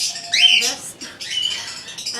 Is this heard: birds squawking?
yes